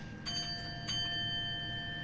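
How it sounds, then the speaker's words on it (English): Guard buzzer in the cab of a French high-speed train on the LGV Méditerranée line in Train Sim World 2: two short electronic buzzes close together over a steady humming cab tone. "I love the guard buzzer in here."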